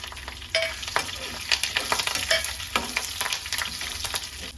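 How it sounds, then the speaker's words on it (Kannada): Curry leaves and dried chillies splutter in hot oil for a curd rice tempering, with dense crackling pops and sizzling plus a few stirring scrapes of a spoon, close and lively with no talking. "ನೋಡಿ ಎಷ್ಟು ಚೆನ್ನಾಗಿ ಚಟಪಟ ಚಟಪಟ ಅಂತ ಇದ್ದಾವೆ"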